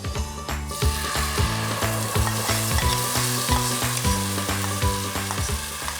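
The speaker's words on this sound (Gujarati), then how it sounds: "હવે આપણે આ નાખીશું ગ્રેવી." Spinach gravy, made from boiled and blended spinach, hits a hot pan in a home kitchen with a loud, steady sizzle. Rhythmic scraping and stirring clatter runs through it, and nobody speaks.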